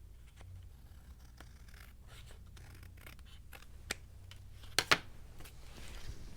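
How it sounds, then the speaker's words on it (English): A pair of quick, crisp snips as scissors trim the edge off a paper window flap, preceded by faint scraping handling sounds in a quiet room. "So I'm just going to trim it off with the scissors."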